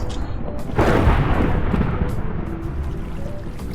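A single muffled boom of a Minecraft creeper exploding bursts out about a second in, then a rumbling tail fades under a low steady background.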